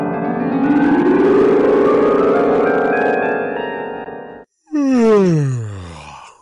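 A long, drawn-out yawn close to the listener, rising in pitch, pausing briefly, then ending in a falling, groaning exhale.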